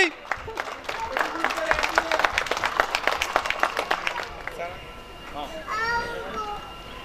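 An audience claps at a picnic prize-giving, a burst of lively applause for about four seconds mixed with children's voices, followed by chatter and a speaker over a microphone.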